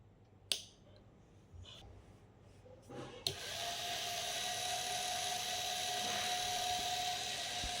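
A multifunctional robot's automatic mop starts with a sharp click, then settles into a steady whirring motor hum with a faint high whine, running continuously and close by after a few quiet taps.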